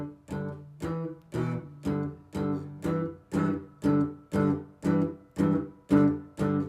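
A guitar lead riff from a song repeats about a dozen evenly spaced plucked notes and chords, stretching to a G6 shape, played close and clear with no voices.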